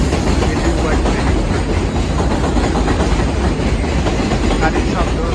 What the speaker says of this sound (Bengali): গাড়ির শব্দ, যেহেতু ট্রেন আছে